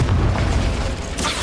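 A Confringo fire spell explodes in the Hogwarts Legacy game, a loud, deep, sustained boom filling the whole short moment with a sharper burst near the end.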